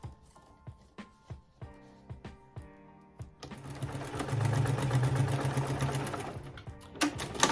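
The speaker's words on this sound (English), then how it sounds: "So I'm sewing my handle in." A sewing machine stitches a bag handle onto an African print pouch, opening with a series of separate needle thumps and then running into a continuous, close mechanical whir that lasts several seconds.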